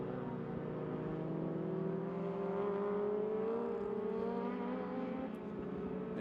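Race cars at Sydney Motorsport Park on the final lap, their engines blending into a steady, sustained drone that swells slightly as they approach and hold on, with no voices over it.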